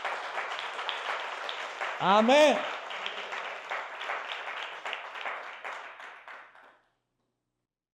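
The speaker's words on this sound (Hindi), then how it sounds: "क्यों ना यीशु मसीह के लिए ताली बजाए।" A church congregation applauds for Jesus Christ, sustained clapping from many hands that fades out near the end, with a voice calling out briefly partway through.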